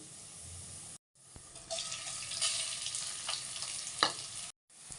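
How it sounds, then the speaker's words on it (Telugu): Grated coconut fries in a tempering of spices in hot oil, making a steady close sizzle with stirring scrapes, broken by two brief silent gaps. "ఇప్పుడు పోపులో వేసుకుని ఫ్రై చేసుకుందాం"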